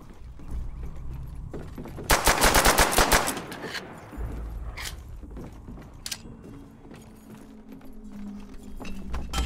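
Semi-automatic rifle gunfire in the video game Call of Duty: World at War, a loud rapid burst of about eight sharp shots followed by scattered fainter game sounds.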